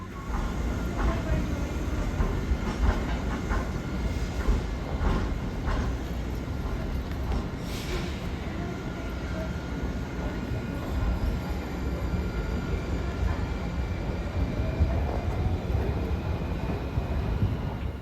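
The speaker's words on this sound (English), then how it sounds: "This is a P-42 Genesis locomotive built by General Electric." An Amtrak GE P-42 Genesis locomotive hauls a train along the rails with a steady rumble and clatter of wheels, plus a brief high squeal midway, while someone talks over the noise.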